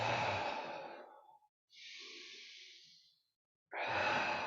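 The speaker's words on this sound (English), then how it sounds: "Really feeling into the quality of the breath." Slow, deep breathing during a guided breathwork session: a long airy exhale fading out, a pause, a softer drawn inhale, then another full exhale, close and quiet with no talking.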